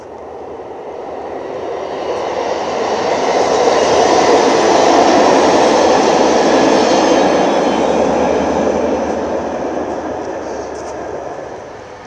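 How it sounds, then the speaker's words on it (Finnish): A train reversing rumbles along the rails in a steady, loud wash of noise that swells and then eases slightly, with no voices. "Ja tässä juna peruttelee sitten takas matkalaisten luo"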